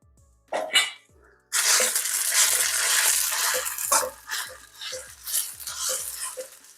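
Spicy pork strips and celery sizzling loudly in a hot pan as they are stirred and broken apart, a steady hiss punctuated by repeated scraping strokes of the spatula.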